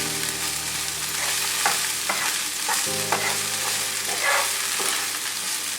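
Frozen green peas and chillies fry and sizzle in a pan with steady stirring, a continuous hiss broken by occasional scraping knocks of a utensil, loud and close with no talk.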